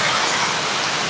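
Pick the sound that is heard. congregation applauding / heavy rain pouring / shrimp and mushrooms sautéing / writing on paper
heavy rain pouring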